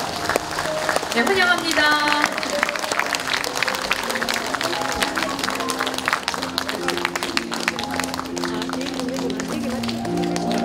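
Audience at a national general assembly of a Korean police veterans' association gives sustained applause as the police commissioner enters, clapping steady throughout while a presenter speaks briefly and music plays along.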